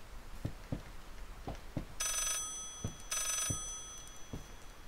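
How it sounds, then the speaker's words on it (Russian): A big landline telephone rings inside the horror game Layers of Fear, in two short, loud bell bursts, with scattered footsteps and thuds around them and no talking. "звоночек-то в другой тональности уже звонит"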